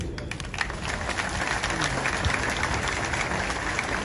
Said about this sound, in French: Vous les applaudissez.